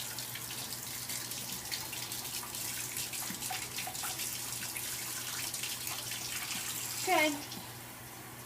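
Warm water runs steadily from a tap into a baby bottle to about six ounces, a close, continuous splashing stream with a low hum underneath and a brief spoken word near the end.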